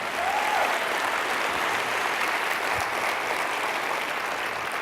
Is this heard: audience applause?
yes